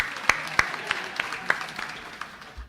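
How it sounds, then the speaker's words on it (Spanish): Several people clap for a boy during a Lenten Sunday church service, their sharp individual claps landing in a slow, regular beat that gradually thins and softens. "Un aplauso a Matías, que no ha jugado en el altar en los pasados 5 minutos"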